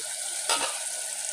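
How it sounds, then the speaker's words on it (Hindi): Tomatoes and green chillies frying in a pan for matar pulao: a steady hissing sizzle with one brief louder burst partway through, near and without any voices. "डालेंगे टमाटर और हरी मिर्चें, इनको भूनेंगे।"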